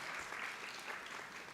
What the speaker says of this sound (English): a round of applause for the adjudicators